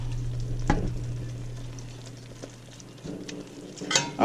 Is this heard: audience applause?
no